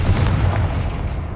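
The Confringo fire spell from Hogwarts Legacy bursts with a loud, close, booming blast. It roars with a dense rumble across the whole moment, then begins to fade.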